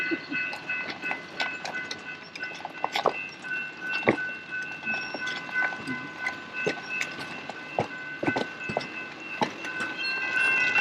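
Pedal-assist Skunk Train rail bikes roll along railway tracks, producing a steady metallic hum with repeated sharp clacks and clicks from the wheels over the rail joints.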